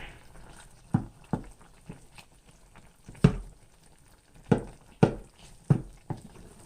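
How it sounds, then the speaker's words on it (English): Food being stirred in a cooking pan on the stove, several separate scraping knocks at irregular intervals over a low simmering background, close and moderately loud. "And I'm going to stir."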